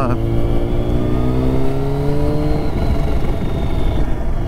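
A Yamaha FZ1 motorcycle engine with a jumpy, slightly sticking throttle runs while riding, its loud, close tone rising and falling in pitch over steady road and wind roar.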